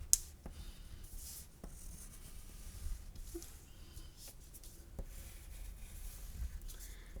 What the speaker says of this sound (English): I'm going to take my crayon and I'm going to overlap